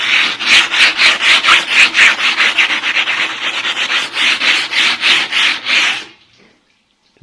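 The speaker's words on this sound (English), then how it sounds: "as I'm grinding the front edge of this" A blade's front edge being ground on a wet stone, heard up close as loud, rhythmic rasping strokes back and forth, about two per second for six seconds, then stopping into near silence.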